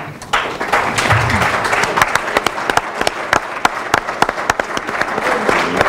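Steady applause from an assembly honoring its committee, a dense patter of many hands with a few sharp, distinct claps standing out near the front.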